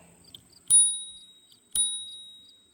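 Two sharp, bright rings of the bell on an Addmotor Spytan M-320 electric trike, about a second apart, each fading with a clear ringing tail in an otherwise quiet setting.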